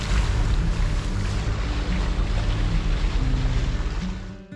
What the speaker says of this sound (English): We're sailing northeast.